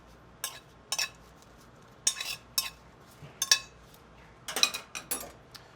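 A spoon tossing roasted potatoes with fresh herbs in a metal pan, giving short clattering bursts of clinks and scrapes spaced by brief quiet pauses.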